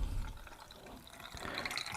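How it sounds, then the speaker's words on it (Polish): Cold water is poured over cucumbers packed in a jar for pickling, a steady running, splashing pour that stays fairly quiet and close with no talk. "zalewam zimną wodą"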